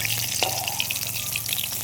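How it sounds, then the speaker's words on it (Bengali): Pieces of rohu fish fry in hot oil in a pan, with a steady close sizzle, fine crackling pops and a brief stir or scrape partway through. "মাছগুলো এরকম সব লাল লাল করে ভেজে নিয়েছি।"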